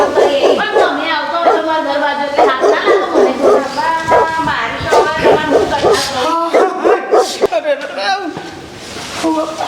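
Dog whimpers, yips and short barks recur through much of the stretch, close and fairly loud, tangled with steady talking from people nearby.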